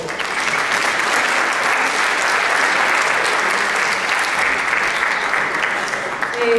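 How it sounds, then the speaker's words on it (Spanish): A conference audience breaks into sustained, dense applause to welcome a speaker at an education lecture, with loud, even clapping throughout and a few faint voices underneath. "Recibámosla con un fuerte aplauso"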